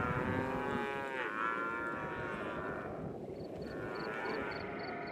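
Cattle lowing in long, drawn-out moos while a border collie herds them on a ranch, faint and somewhat distant over a steady outdoor background.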